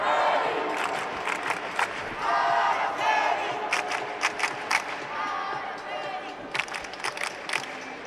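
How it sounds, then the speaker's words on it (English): Spanish fans in a fencing crowd in Cairo shout and chant for a fencer during a semi-final break, a loud, continuous mass of voices rising and falling with bursts of cheering. "big Spanish contingent in the crowd here in Cairo. Calling out Araceli Navarro"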